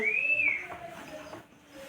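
Another student in a class 9 science lesson whistles one short, faint rising-and-falling note, followed by quiet room noise.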